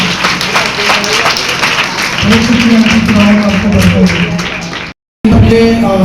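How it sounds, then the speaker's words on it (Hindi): Church congregation at a pastor's healing service clapping in sustained applause under an amplified voice, stopping abruptly for a brief silence before sound resumes. "आए खुदावन के लिए जोरदार तालियां बजाएंगे, जोरदार तालियां"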